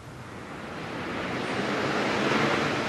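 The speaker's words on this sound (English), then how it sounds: "we're going to use these machines to simulate some wind." On a golf course, machines blow simulated wind as a steady, broad rushing roar that swells slightly louder over a few seconds, with no voices.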